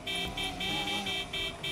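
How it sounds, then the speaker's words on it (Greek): A car horn honking in GTA 5 Online, sounding as repeated short toots in a regular pulsing rhythm over low vehicle noise, fairly close and clear. "Μη κορνάρεις μωρέ, μη σμπρώχνεις μωρέ."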